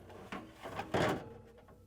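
A plastic ice bucket for a Whirlpool, KitchenAid or Maytag refrigerator slides into place under the ice maker, giving a few soft scraping rubs and then a louder sliding bump near the end of the motion, with no one talking.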